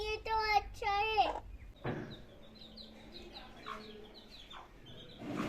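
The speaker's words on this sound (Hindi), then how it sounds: "हमारी मुर्गियां जो है वो तैयार हैं अंडों पर बैठने के लिए।" Hens ready to brood on eggs give a burst of loud close clucking at first, then softer scattered chirps and clucks spread across the rest, with a brief rustle in between.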